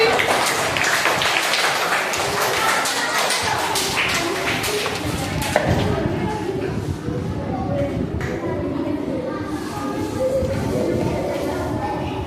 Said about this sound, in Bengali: সঠিক উত্তর দেওয়ার জন্য হাততালি